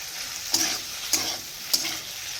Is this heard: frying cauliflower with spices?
yes